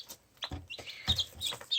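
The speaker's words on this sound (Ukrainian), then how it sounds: "Вилізли курчатка і навіть одне каченятко." Newly hatched chicks and a duckling peep in quick, high, bright chirps, several short calls in a row, close by and fairly loud with no talking.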